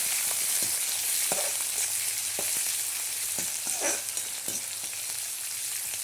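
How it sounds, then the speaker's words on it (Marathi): Chopped onion for upma sautéing in hot oil, a continuous bright sizzle with occasional soft stirring scrapes, close by and steady throughout. "कांदा टाकलेला आहे हे परतून घ्यायचं"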